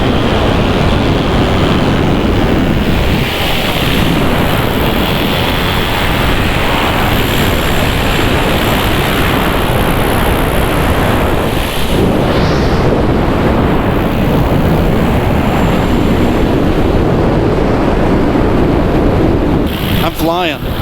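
A paramotor engine drones steadily in flight during an offroad motorcycle and paramotor trip through Colombia, heard under a loud, constant roar of wind rushing across the microphone for the whole stretch.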